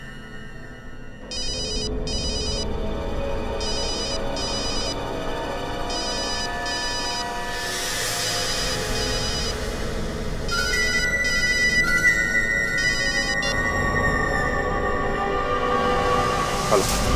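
A telephone rings in repeated electronic bursts over a steady background, which later shifts to a different, sustained ringtone pattern, lasting throughout with no clear speech.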